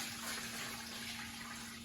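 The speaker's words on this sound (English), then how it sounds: "now I've got my top secret brine, and we're gonna pour that on top" Brine pours steadily over a brisket in a pan, a continuous close splashing wash of liquid with a faint steady hum underneath and no talking.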